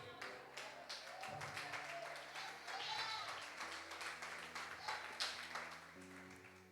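Church congregation applauding during a Portuguese-language evangelical miracle service, a steady mid-level wash of clapping sustained for several seconds, mixed with music and voices underneath.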